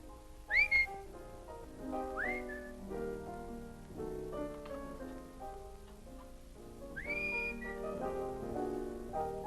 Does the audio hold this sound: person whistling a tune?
yes